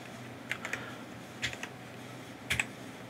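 Computer keyboard typing while entering a short function name into auto-generated button code, heard as three small clusters of quiet keystrokes spaced about a second apart in a quiet room.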